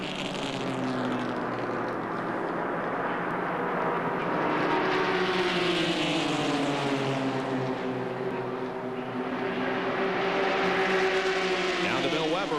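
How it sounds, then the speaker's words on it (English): Onboard a fast Goody's Dash Series race car at Daytona, in a 2000 NASCAR event: a loud, steady engine drone with rising and falling harmonic pitch holds throughout, with commentary voices over it. "This is Bryant's onboard camera. I tell you what, he really has a fast race car."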